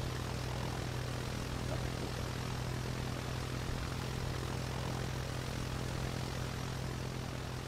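The propeller engine of an Evektor SportStar light plane in the Roblox game Aeronautica drones steadily, with a constant low hum and broadband whine holding at an even, moderate level throughout.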